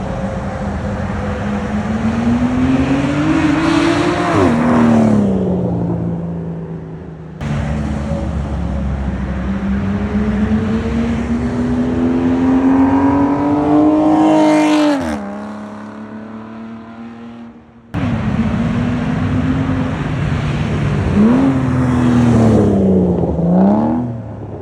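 An Aston Martin fitted with a new exhaust drives by in three separate passes, its loud engine rising in pitch under acceleration and then dropping on gear changes, a raspy exhaust note that fades and returns.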